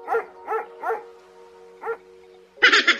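Dog barks sound in the mobile merge game Doggie Go: three quick yips, a pause, then a fourth, followed by a brighter game chime, clear with no talk.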